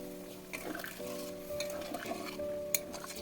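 Boiled potatoes and chickpeas tossed into frying masala for chana paneer, a short burst of sizzling and spoon scraping against the pan, steady and close over a constant low hum.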